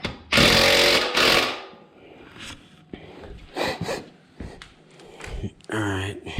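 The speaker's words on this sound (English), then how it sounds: "I'll go ahead and bump them down with a ratchet" Ratchet running down bolts on a Warn ProVantage-S 2500 winch bracket on a 2020 Honda Rubicon, heard as loud bursts of rapid clicking and grinding, then quieter intermittent clatters and clicks, with speech mixed in between.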